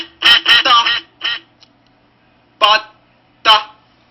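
Duck quacking in a farm animal sound sequence, with a quick burst of three harsh quacks, a fourth shorter one, then two more separated by pauses, loud and close.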